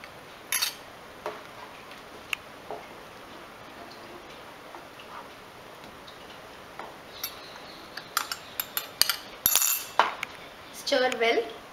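Spoon clinking and scraping against a pan while rice flakes and oats kesari are stirred, with scattered sharp metallic taps that grow busier toward the end and quiet background noise in between.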